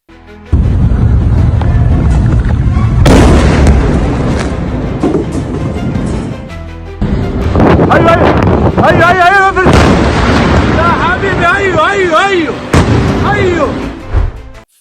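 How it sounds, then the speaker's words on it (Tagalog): Heavy booms and blasts from an Iranian Fattah hypersonic missile strike on Tel Aviv roll through a chaotic scene, with rumbling, crackling bursts and excited shouting voices mixed in throughout. "makikita ninyo kung gaano kalakas ang alon ng pagsabog ng hypersonic missile na Fatah"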